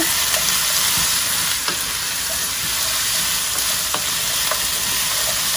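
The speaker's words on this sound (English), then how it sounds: "Give that a stir." Zucchini and carrot frying in a pan with a steady broadband sizzle, a spoon scraping and stirring through in a few scattered clicks and knocks, close and continuous with no talking.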